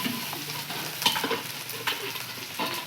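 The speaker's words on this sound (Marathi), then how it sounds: "डाळ परतून घेतलेली आहे आता टाकूया आपण शेपाची भाजी" Dill greens tossed into lentils already sautéing in a pan, a steady close sizzle with a few soft stirring scrapes and clicks of the spoon, no talking.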